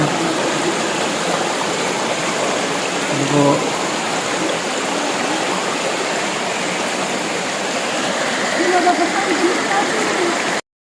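Flowing water at Baggao Blue Lagoon in Cagayan Valley, a steady broadband rush like a stream or small falls, continuous and fairly close, with a brief voice speaking over it.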